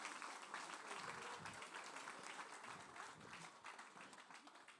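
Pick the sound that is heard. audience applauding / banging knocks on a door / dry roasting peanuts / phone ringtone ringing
audience applauding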